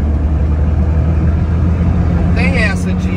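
A Chevrolet Silverado drones on a busy highway while overtaking a truck, a loud, steady low engine rumble with road noise throughout, and a voice briefly breaks in near the end.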